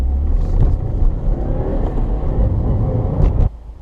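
A 2017 Subaru WRX pulls away hard on a road, its engine rumbling loud and steady with a brief rising rev near the end before the sound cuts off abruptly.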